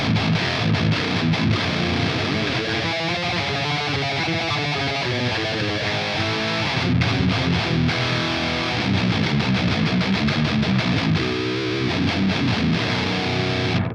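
A heavily distorted electric guitar through a metal amp simulator plays a steady, dense riff with sustained chords and fuzzy, saturated tone throughout, loud and continuous.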